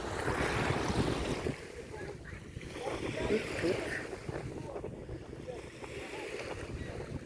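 Water sloshes and laps steadily on the Teteriv river while wind buffets the microphone, with a low engine drone from a motorboat passing nearby and sending waves toward a canoe.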